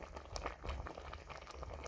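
Gram beans boil in a pot, a dense steady bubbling and popping that stays close and fairly loud, with no voices.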